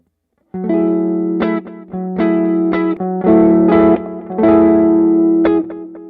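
Overdriven electric guitar through AmpliTube 5 plays sustained chords and single notes with a gritty, saturated lo-fi tone, loud and close, with short gaps between phrases.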